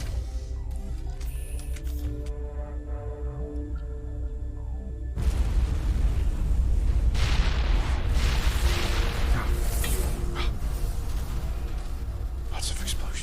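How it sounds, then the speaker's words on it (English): Explosions in the video game Mass Effect Legendary Edition: a tonal, humming stretch gives way to loud, continuous rumbling blasts and booms. "Lots of explosions."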